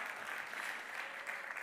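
Sustained crowd applause at an awards ceremony for a French marketing festival, a dense steady wash of many hands clapping throughout with no gaps.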